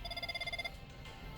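A phone rings with a rapid, trilling electronic pulse for under a second, then stops, heard fairly close over faint room noise.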